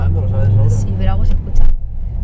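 A steady, low engine and road rumble fills the inside of a moving car, with someone talking over the constant drone.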